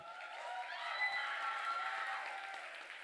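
A concert audience at a jazz performance claps in sustained, even applause from a moderate distance, a dense wash of hands without cheering standing out.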